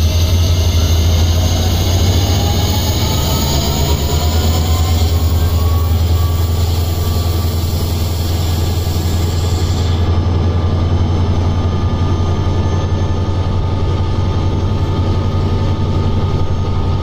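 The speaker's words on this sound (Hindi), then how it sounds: "अभी देखिए ट्रेन चल पड़ी है दोस्तों" Train moving off in Train Simulator Classic, a steady low engine rumble and rolling rail noise with a faint whine, continuous and close throughout, with no talk.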